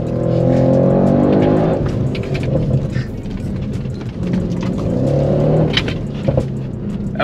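An Audi RS6-R's tires squeal and skid on the road while the engine revs hard, with long screeching bursts rising and falling over several seconds, loud and close, with no speech over it.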